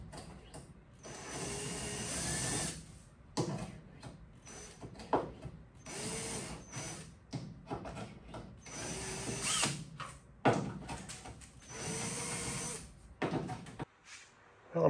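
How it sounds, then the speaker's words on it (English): A drill spins a deburring blade in rivet holes on an aircraft wing leading edge, giving repeated short whirring bursts with clicks and handling noise between, close and moderately quiet. "So I'm going to put this in the drill, do that in all the holes."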